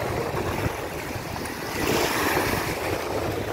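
Sea waves and steady surf wash around a schooner on a boat trip off Arraial do Cabo, with wind buffeting the microphone; the broad rushing noise swells slightly louder partway through, with no voices.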